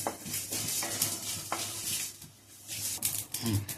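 Spices dry-roasting in a pan for a chicken dish, heard as steady scraping and stirring with soft patter and faint sizzle, close up, with no talk.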